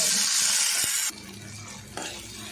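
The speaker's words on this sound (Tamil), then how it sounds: "தக்காளி இந்த அளவுக்கு ஃப்ரை பண்ணால் போதும்" Tomatoes and onions frying in a pan, a steady hiss of sizzling with a few soft stirring knocks early on, then dropping to a quieter simmer before a slight rise, with no talking.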